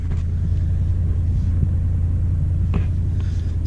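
A Trans Am V8 idles after a cold start on a winter day, a steady, loud low rumble that holds evenly throughout with no voices.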